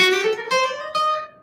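Guitar plays notes of the symmetrical diminished scale, three distinct plucked notes stepping upward about half a second apart, each ringing clearly and sustaining, close and solo with no talking.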